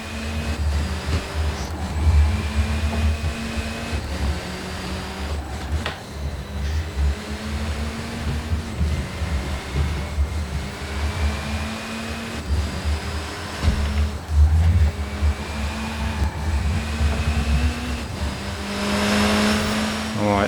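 Racing car engine in Forza Horizon 4, loud and continuous, revving up through repeated gear shifts with rising pitches and brief drops, close and dominant throughout with no speech over it.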